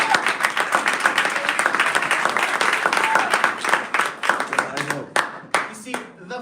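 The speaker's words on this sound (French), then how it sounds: "So let's give him another round of applause." Church congregation applauding with dense, continuous hand clapping that thins out toward the end, with voices mixed in.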